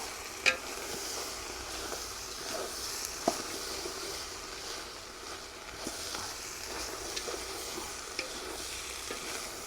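Goat intestines fry in a pan with a steady, close hiss and crackle, broken by occasional sharp pops and light stirring scrapes.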